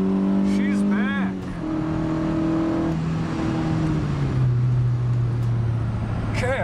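Honda EF sedan engine revs hard and climbs through VTEC, a loud close rising howl with stepped pitch changes as gears shift, heard from inside the car while a voice speaks briefly.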